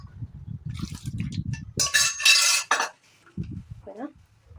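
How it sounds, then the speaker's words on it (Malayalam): Metal utensils clank, then water rinsed out of a pressure cooker splashes briefly and loudly into sambar cooking in a clay fish-curry pot, with softer clinks afterward. "കുക്കർ കഴുകിയിട്ട് ആ വെള്ളം കൂടി ഒഴിച്ചു കൊടുക്കുന്നുണ്ട്"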